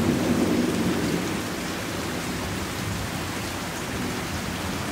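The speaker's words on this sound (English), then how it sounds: "We're having another storm. Lots of lightning." A heavy nighttime thunderstorm with loud, steady rain pouring down and deep thunder rumbling beneath it, close and continuous with no voices.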